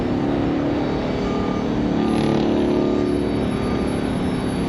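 A loud, steady car exhaust rumble roars continuously, with a deep low-end drone and a faint high whine above it, as the car passes nearby at an airport.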